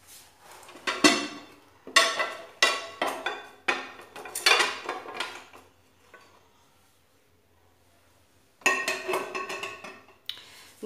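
Ceramic plates and cutlery clink and clatter sharply in a home kitchen while a plate is taken out, a series of close, bright knocks in bursts, with a quiet pause before another cluster of clatter.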